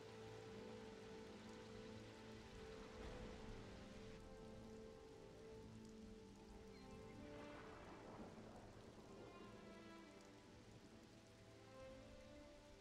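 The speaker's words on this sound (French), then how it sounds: "Oh, la pluie." Steady rain pattering on surfaces under a low, sustained musical drone in Xenoblade Chronicles 3, constant and moderately quiet throughout.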